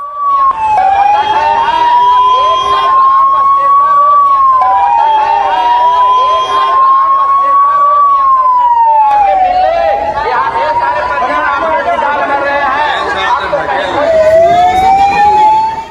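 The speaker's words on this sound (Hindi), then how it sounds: "मौके पर एम्बुलेंस बुलाई गई, एम्बुलेंसेस दौड़ना शुरू हुई अशोकधाम से अस्पताल की तरफ" Ambulance sirens wail continuously after a temple stampede in Bihar, loud and close, with rising and falling tones overlapping amid crowd noise and voices.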